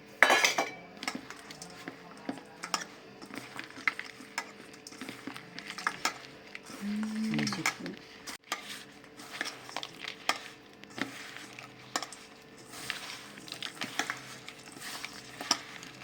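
Hot bajra (millet) rotla is mashed and mixed with jaggery in a dish, with scattered clinks of a utensil against the bowl and soft scraping and stirring noises, fairly quiet and irregular.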